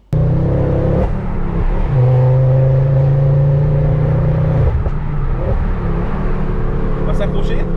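A Ford Focus RS MK2 Stage 2 with about 400 horsepower accelerates hard on a road in Réunion. Its loud, close engine drone rises and holds in pitch, with brief shifts, and a voice speaks over it.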